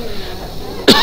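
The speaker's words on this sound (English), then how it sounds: "And the odd tickling cough here and there." One short, sharp tickling cough lands at the very end of a brief, otherwise quiet moment, close and fairly loud.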